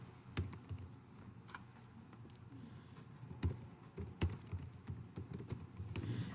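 Keys tapped on a computer keyboard while entering a button name in a Google Site, giving scattered, fairly quiet clicks in short irregular bursts with no talking.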